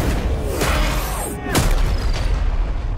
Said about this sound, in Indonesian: Ledakan super dahsyat pun terjadi di langit Kabupaten Wutong